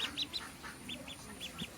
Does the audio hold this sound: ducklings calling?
yes